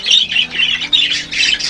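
A budgie in a breeding nest gives a run of sharp, loud, close squawks, several harsh bursts in quick succession.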